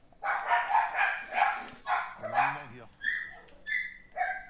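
A dog barks and yips in a quick series of sharp, mid-loud calls, mixed with talk from a man playing Apex Legends over game sounds.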